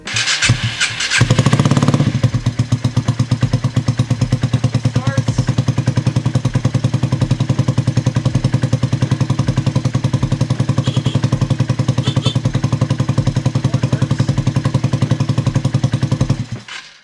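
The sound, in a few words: Honda Ruckus scooter engine starting and idling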